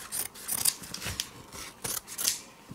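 Scissors snip through paper in several short, crisp cuts at close range, with brief pauses between strokes and no talking.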